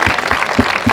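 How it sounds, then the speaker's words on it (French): Spectators at a parish fete clap for young jousters aged 11 to 13, a brief, close burst of crowd applause with an even, rapid patter. "On peut les applaudir."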